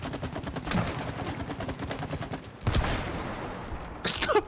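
Rapid bursts of video-game gunfire from It Takes Two rattle in a dense, steady stream for several seconds, with a brief louder volley near the end.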